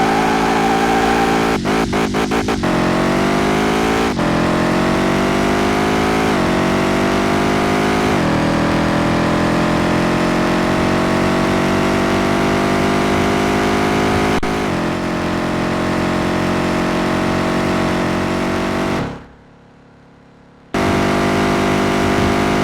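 Dodge Ram SRT 10 engine in Car Mechanic Simulator, loud and close, revving through repeated climbs with shifts, then cutting out to near silence briefly before roaring back.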